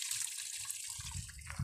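Faint trickle of water running down a rocky hill about 1400 feet high, a soft continuous flow heard from a short distance with a slightly louder gush toward the end.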